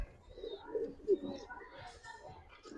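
Giribaz pigeons cooing softly in low, throaty bursts, fairly near, with faint background chatter and a few thin chirps.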